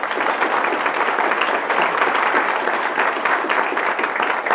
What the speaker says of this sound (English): Give John Terrell a round of applause.